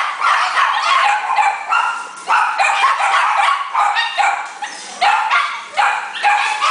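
Many dogs packed into small, crowded kennels at a puppy mill bark and yip almost without pause, a dense, loud, overlapping chorus of sharp barks close by.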